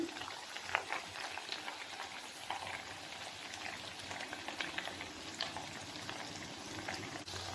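Rava mini vadas made from semolina fry in hot oil, giving a steady, faint hiss and crackle with scattered tiny pops throughout.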